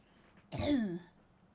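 A single short, throaty cough close to the microphone, rough and low, set against near silence.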